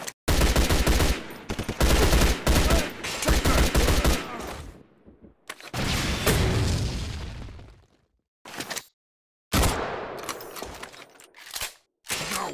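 Dense automatic gunfire in the Android shooter game Fusion War, loud sustained bursts with brief gaps and sharp restarts, close and punchy, with no voices over it.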